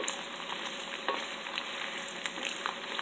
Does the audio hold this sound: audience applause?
no